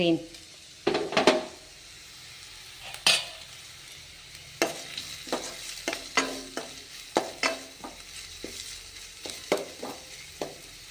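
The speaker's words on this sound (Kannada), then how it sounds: "ಸ್ವಲ್ಪ ಫ್ರೈ ಆಗಲಿ" Green ground paste frying in a pan while being stirred, with repeated scraping clatters of the spoon against the pan over a soft, steady sizzle.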